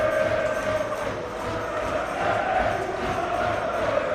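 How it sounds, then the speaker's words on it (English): A large German arena crowd roaring and singing together in a steady, sustained chant that fills the space, at a European Box Lacrosse Championship game between Germany and the Czech Republic. "German crowd beneath me getting a song and dance going."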